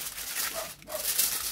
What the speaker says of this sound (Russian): Соседская собака.